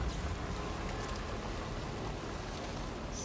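Steady rain in the video game Death Stranding 2, a dense, even hiss of falling drops throughout with no other sounds standing out.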